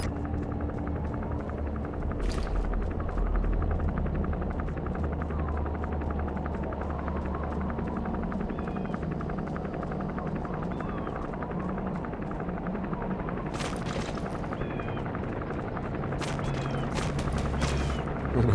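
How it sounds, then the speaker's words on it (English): A helicopter approaches and lands in the video game Metal Gear Solid V: The Phantom Pain, its steady rotor thump droning throughout, with occasional gunshot-like bursts. "There's a chopper landing."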